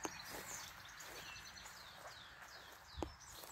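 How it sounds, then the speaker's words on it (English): Small birds chirp and tweet in a wet garden by a cabin, a series of faint, quick high calls repeating through the clip over quiet outdoor ambience, with a soft knock or footstep near the end. "Listening to the birdies tweeting away."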